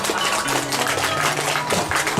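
Audience applause at a Balinese dharma talk ceremony, dense steady clapping from many hands sustained throughout, fairly close and loud.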